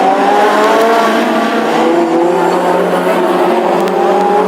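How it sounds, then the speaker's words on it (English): Classic hot rod cars racing on a track at Birmingham, a loud, steady engine roar held throughout with the whine of revving motors layered together, close and dominant. "he's having a great race with Brian Starr."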